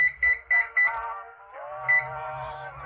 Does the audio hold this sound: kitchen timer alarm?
yes